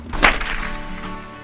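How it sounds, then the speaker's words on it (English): A Florida cracker cow whip is swung so its frayed popper end snaps, giving a single sharp, loud crack close by, followed by a brief swishing tail. "as I roll the whip and it makes that loud cracking sound"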